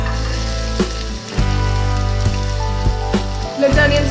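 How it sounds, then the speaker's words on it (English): Onions frying in oil in a pan with cumin, whole spices and a dried red chili, a steady loud sizzle with a few soft stirring knocks. "Let the onions fry."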